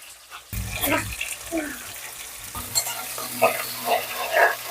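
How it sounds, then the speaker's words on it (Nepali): Onions, green chillies and spices hit hot mustard oil in a pan with a burst of loud sizzle, then settle into a steady crackling fry with stirring scrapes, close by, no talking. "श्रीमती ज्यूले अब तोरीको तेल खरिसकेपछि मरम मसलाहरु, प्याज, खोर्सानीहरु चाहिँ हाल्दैछिन्"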